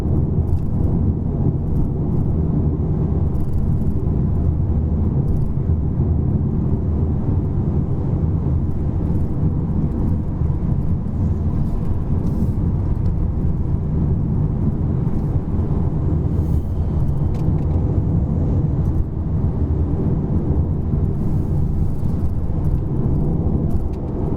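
Inside a Volkswagen Passat Elegance with a DSG gearbox cruising on the road, a steady, loud low rumble of tyre and road noise mixed with a muted engine hum continues unbroken, with no talking.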